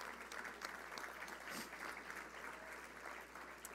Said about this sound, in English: Big round of applause for this guy.